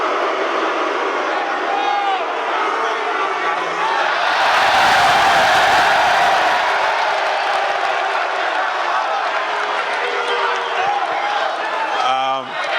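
A large Perth crowd cheers and whoops at the UFC 284 pre-fight press conference, a loud swell that peaks in the middle and stays raucous behind someone speaking into a microphone.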